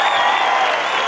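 Audience applause and an ovation at a Juan Dávila stand-up comedy monologue, a steady dense wash of clapping filling the whole moment without pause.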